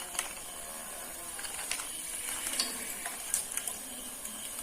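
Thick tapioca halwa is stirred in a pan as fried cashews and raisins go in, giving a low continuous sizzle with soft scraping and occasional small clicks.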